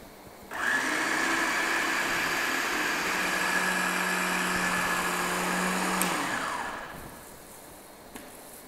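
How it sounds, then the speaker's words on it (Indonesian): A food processor grinding blanched oyster mushrooms for nuggets: a steady whirring motor roar lasting about six seconds, then winding down to quiet, with no talk. "selanjutnya kita haluskan menggunakan food processor"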